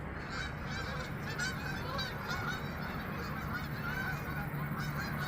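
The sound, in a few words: flock of geese honking at sunset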